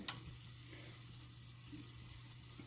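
Ground meat for shepherd's pie browns in a pan, giving a faint, steady sizzle with a low hum beneath and a soft tap at the start.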